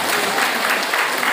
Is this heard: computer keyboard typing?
no